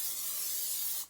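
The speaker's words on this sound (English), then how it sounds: "I'm going to spray it right now with" Pam cooking spray sprayed onto a casserole dish, one steady close hiss lasting about a second before cutting off.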